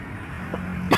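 A person gives a single sharp cough near the end of the clip, close to the microphone, after a quiet stretch of low hum.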